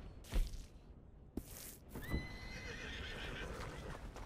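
A horse in the Red Dead Redemption 2 video game lets out a loud, drawn-out neigh with shrill rising whinnies, preceded by a few heavy hoof thumps and snorts, standing alone without talk.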